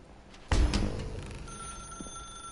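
A telephone rings in the video game The Stanley Parable, one sharp loud burst followed by a fading ring tail, standing alone with no talk over it.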